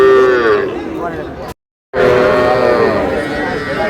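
Cattle at a Cumilla market where Sahiwal bull calves are sold moo in long, loud calls close by, broken by a brief silent gap, with people talking in the background.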